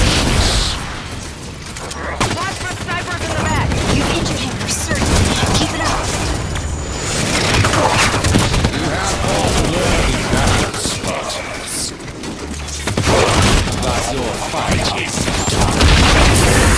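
Gunfire and booms in the video game Halo 5: Guardians, a dense and loud running battle with overlapping shots and bursts that continue throughout.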